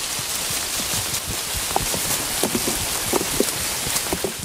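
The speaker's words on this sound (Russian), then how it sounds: "А теперь дождь из абрикосов." Ripe apricots drop from a tree onto straw spread on the ground. The soft thuds are scattered and irregular, set against a steady rustling patter much like rain. No one speaks.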